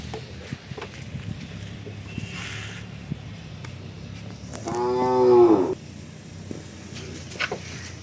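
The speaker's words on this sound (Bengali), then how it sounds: "জার্সি গরু, অবশ্যই গরুটা খুব ভালো মানের গরু।" A Jersey cow gives one loud, close moo midway through, rising and falling over a few seconds against faint farmyard noise and scattered knocks.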